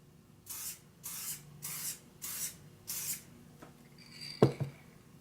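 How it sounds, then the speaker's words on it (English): Five short hissing bursts of spray adhesive from an aerosol can in a steady rhythm, close by, followed by a few light handling clicks and a soft thump. "And then there's Backpackingadventures used this spray adhesive to kind of keep everything together."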